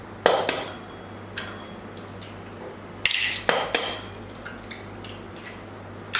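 Eggs cracked against a bowl rim and sugar, oil and banana added for banana bread, heard as several sharp knocks and clinks spaced out irregularly, fairly close, over a low steady hum.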